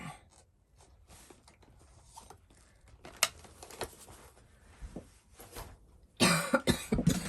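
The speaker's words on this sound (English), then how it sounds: "Sorry about the coughing." Coughing from someone at a craft table making a gel press floral card, a few scattered coughs with a louder burst of harsh coughs near the end, fairly close.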